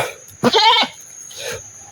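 A goat gives one loud, wavering bleat up close, followed by a fainter second bleat, over a steady high-pitched background hum.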